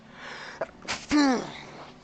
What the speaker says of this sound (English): Man, that's a good sneeze.